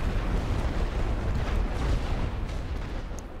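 A dense, continuous roar of artillery fire rumbles through The Great War: Western Front, heavy low booms blending into a constant loud barrage with no distinct gaps and no voices.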